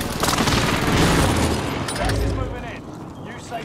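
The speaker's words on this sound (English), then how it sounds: "Allied precision airstrike incoming." Airstrike explosions in Call of Duty: Modern Warfare form a dense, loud burst of booming blasts and gunfire crackle that rolls on for a few seconds, then thins out.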